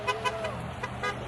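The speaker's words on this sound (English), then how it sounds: "Oh, we got people honking." Car horns honking on a street, several short toots in quick succession at moderate distance under steady background noise.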